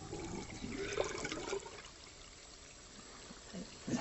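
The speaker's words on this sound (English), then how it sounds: "Put your hands in the water and wash off the soap." Running water splashes and trickles as soap is rinsed off hands at a sink, a steady wash that swells and then eases into a softer flow, close by.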